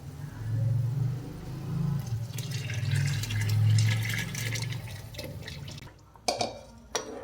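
Ground masala goes into a simmering country chicken curry, with a low bubbling, wet rumble and liquid swishing close by, ending in a few sharper splashes.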